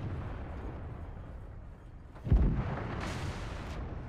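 One deep artillery boom from a World of Tanks battle lands amid a steady low rumble of engine and ambient noise, a single heavy shot standing out near the middle.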